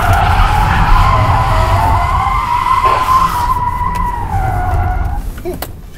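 A Tesla Model 3 set to rear-wheel drive on a track lets out a loud, sustained tire squeal that wavers in pitch over several seconds before fading, with road rumble underneath.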